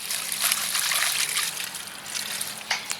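Water trickles and splashes steadily as it is poured into a container of tree paste to thin it down before mixing, a close, continuous liquid sound with no talking.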